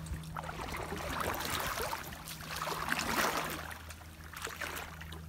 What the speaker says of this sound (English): A 14-foot kayak tandem through the mangrove tunnel here with a pretty good current.